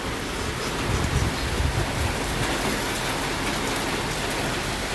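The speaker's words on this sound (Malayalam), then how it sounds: "മഴ വരുന്നു" Heavy rain pours down in Thiruvananthapuram amid strong wind, a loud, continuous wash of drops striking surfaces, close and unbroken throughout.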